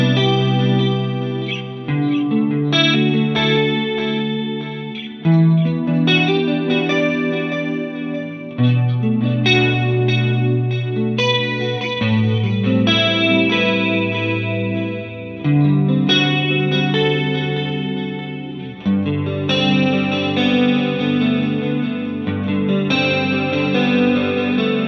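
Sustained electric guitar chords ring out with a swirling chorus-like modulation from a Tonex modeler controlled by an Xsonic Airstep, changing every few seconds in a slow, continuous progression without any voices.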